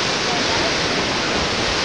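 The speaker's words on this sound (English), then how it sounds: "I'd love to just go down the stream with the waterfalls." A waterfall near Neuschwanstein castle in Bavaria gives off a steady, loud rushing roar of falling water, broadband and unbroken throughout, with no voices on top.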